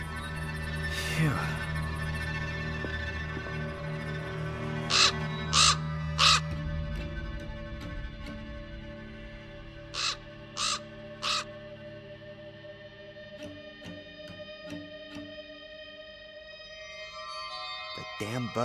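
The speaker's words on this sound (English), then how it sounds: "So the raven got in here." A raven caws inside the video game Black Mirror 2: two bursts of three sharp, ringing caws each, fairly close, set against a droning ambient music bed.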